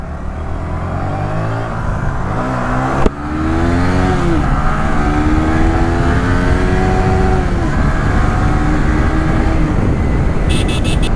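Two Yamaha R15 V3 motorcycles pull away under hard throttle, their engines revving up in steady rising sweeps, loud and close, with a brief dip and a sharp restart partway through.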